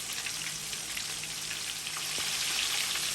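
Shrimp fry Guyanese style in hot oil as they are turned over, giving a steady, close sizzle that grows slightly louder near the end, with a faint clink partway through.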